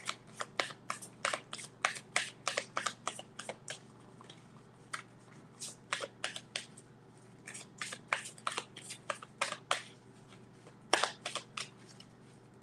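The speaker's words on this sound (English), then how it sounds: "I'm going to pull my tarot and then I'll reveal." Tarot cards being shuffled and pulled by hand, close crisp bursts of riffling and flicking in quick irregular clusters, with no talking over them.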